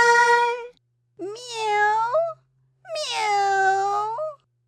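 Three drawn-out meows with pauses between, clear and close, sounding like a voice imitating a cat while reading Beatrix Potter's The Tailor of Gloucester aloud.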